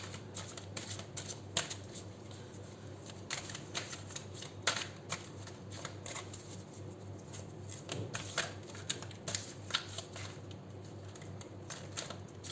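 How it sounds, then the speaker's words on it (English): Tarot cards being shuffled by hand, a steady run of riffling, rustling and flicking card noises with sharper slaps now and then, close and fairly quiet, with no talking. "Not very easy to shuffle these cards."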